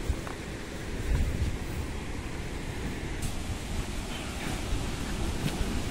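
Water rushes steadily from a waterfall in the Dharamshala hills of Himachal Pradesh during the rainy season, a broad continuous roar lasting throughout, close and fairly loud, with no talking.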